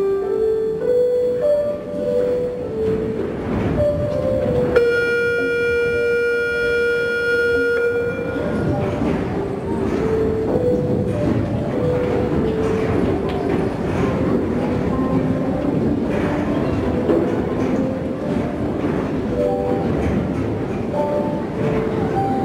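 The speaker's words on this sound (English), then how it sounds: "And the train sped away." Train sound effect at an elementary school Christmas concert: a steady rolling rumble with a sustained whistle tone partway through, continuing loud and even for the whole stretch.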